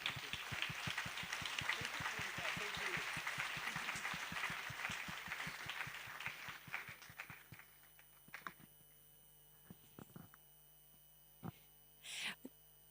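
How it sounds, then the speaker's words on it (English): An audience at an AI campus inauguration gives a warm round of applause, dense steady clapping that thins out into a few scattered claps and fades to quiet. "Warm round of applause for both Priyanka and Manan"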